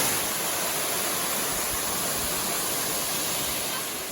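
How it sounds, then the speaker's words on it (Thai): Kon Luang waterfall in Mae Ping National Park, its deep pool about eight metres, roars as a steady, dense, broadband rush of falling water, close and continuous throughout with no voices. "นี่คือจุดที่เรียกว่าน้ำตกก้อนหลวงครับ"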